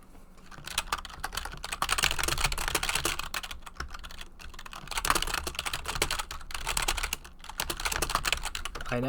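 Rapid clicking keystrokes on a computer keyboard come in steady bursts with brief pauses between them, close and fairly quiet.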